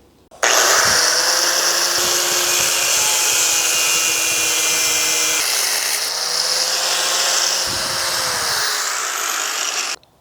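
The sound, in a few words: angle grinder cutting off a winch bumper wing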